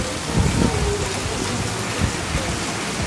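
Steady rain pours down over an open-air vegetable market, a dense, even hiss of drops filling the scene throughout with a few slightly heavier spatters near the start.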